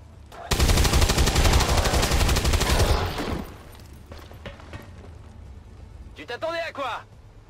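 Rapid automatic gunfire from XCOM 2 rattles loud and dense for about three seconds, then cuts to quiet, followed by a few scattered thuds and a short burst of speech.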